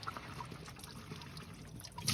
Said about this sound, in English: fill it with water, put your hand over the top and give it a shake